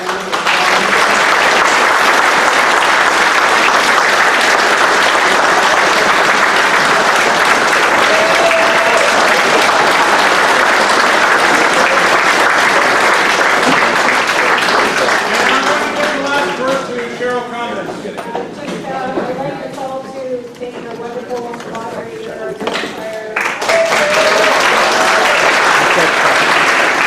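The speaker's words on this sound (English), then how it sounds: "let's give them another round of applause." An audience at a Bolton town hall for Dufferin-Caledon election candidates gives a long round of loud applause that thins and softens midway, with voices talking through it, then swells again into full clapping.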